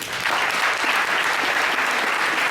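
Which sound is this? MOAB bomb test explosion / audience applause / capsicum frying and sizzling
audience applause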